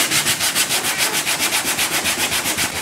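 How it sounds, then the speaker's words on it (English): Sanding blocks rubbed over fiberglass patches on a 1977 Corvette body, a steady rhythmic scraping with regular back-and-forth strokes, close and loud, with no talking. "now we're gonna go ahead and sand her down with some sanding blocks"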